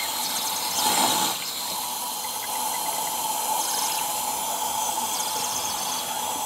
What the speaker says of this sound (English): water trickle in there for about 5 minutes